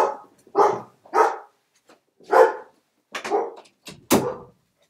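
A dog barks outdoors on a breezy day among trees, a series of about seven loud, separate barks at uneven intervals with short pauses between them, heard alone without any talk.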